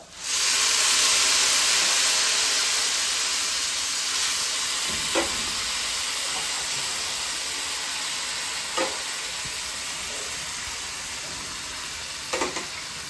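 About five cups of hot water hit a hot cooking pan for a Kolkata-style rice and puffed-rice ghonto, bursting into a loud hissing sizzle that slowly settles into a steady bubbling steam, with a few utensil clicks and no talk.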